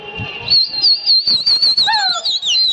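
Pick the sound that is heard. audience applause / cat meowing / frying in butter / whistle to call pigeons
whistle to call pigeons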